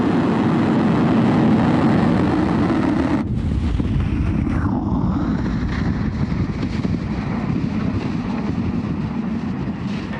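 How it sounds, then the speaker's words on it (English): SpaceX Falcon rocket engines roaring at liftoff on the Transporter-15 mission, a loud, steady broadband rumble with wind-like buffeting that holds strong throughout and shifts slightly in tone partway through, with no voices. "Ignition, engines full power, and liftoff. Go Falcon, go Transporter-15."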